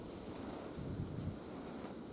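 Steady wind of about 15 mph buffets the microphone outdoors in Florida during a turkey hunt, a constant low roar and rumble with faint gusts and no talking.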